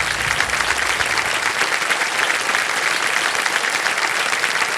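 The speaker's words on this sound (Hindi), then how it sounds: "ताली बज जाए इनके लिए" Loud, sustained applause from the studio audience of the Hindi quiz show KBC for a contestant, a dense roar of clapping that stays even from start to finish.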